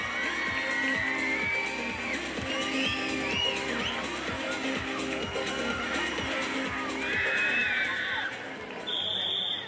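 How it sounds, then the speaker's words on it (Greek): A crowd at a beach volleyball match claps and cheers loudly and continuously, with whoops and shrill whistle-like tones rising above the roar and voices mixed in. "ένα δυνατό χειροκρότημα και φασαρία"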